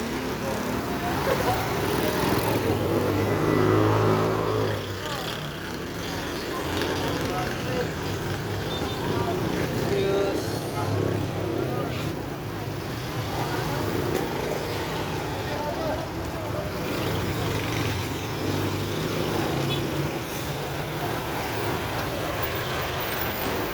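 Heavy road traffic packed with buses and cars rumbles in a dense, continuous roar with occasional mechanical hisses like air brakes, while people talk nearby throughout.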